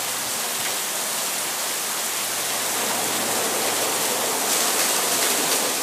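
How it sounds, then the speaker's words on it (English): Water rushing steadily over the two overshot water wheels of an 18th-century working mill, a dense, continuous roar heard close and alone, swelling slightly toward the end. "This is the one which diverts the water over the wheels and starts them turning."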